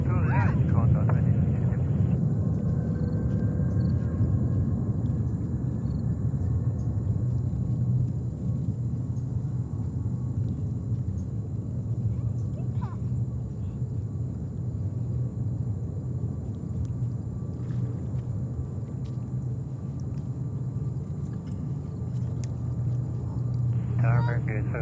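Airbus A380 airliner at JFK airport in New York, its engines giving a steady, heavy low rumble that holds through the whole stretch, with faint radio chatter in the background.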